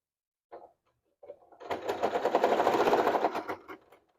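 A sewing machine stitches through a bag with a quick, even mechanical whir that runs loud and close for about two seconds after a couple of short taps, then winds down and stops.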